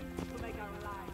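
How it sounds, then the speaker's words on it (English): Horse hooves clip-clop in the Assassin's Creed Brotherhood video game, a steady rhythmic beat under game music and someone talking throughout. "And they gave me a horse."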